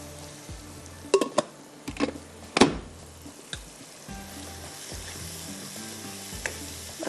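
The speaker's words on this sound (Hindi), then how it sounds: "थोड़ा सा इसको हम इस तरह से भूनेंगे" Ground tomatoes fry in masala for Kashmiri chicken, a low steady sizzle with a few louder spatula scrapes and clatters up close, no voices.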